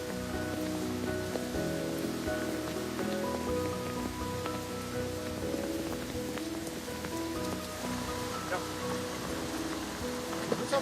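Heavy rain drums steadily on surfaces at a quayside market, a constant dense patter, with muffled voices and activity faintly audible beneath it.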